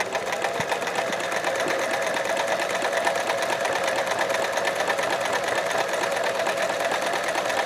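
A sewing machine runs steadily through a stretch stitch, a dense rapid mechanical whir with fast rhythmic needle clatter, close and continuous with no talking.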